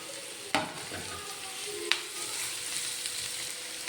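Chopped onions for a snack filling sauté in a pan, a steady close sizzle marked by two sharp spoon knocks and light stirring, with no one speaking.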